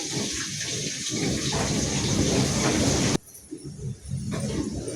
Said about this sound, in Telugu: మష్రూమ్ పలావ్కి నూనె వేడెక్కిందండి. ఎర్రగడ్డలు వేస్తున్నాము.